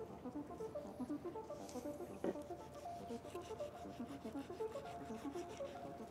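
Knife slicing along a bluefin tuna fillet makes quiet, repeated rubbing and scraping strokes in a steady rhythm, close and soft, with one sharper knock midway and no voices.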